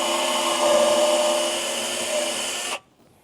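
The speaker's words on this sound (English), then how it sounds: "We're gonna go ahead and drill this pilot hole out." A power drill with a 1/8 inch bit whines steadily at high speed drilling a pilot hole for a battery tray, then cuts off abruptly into quiet.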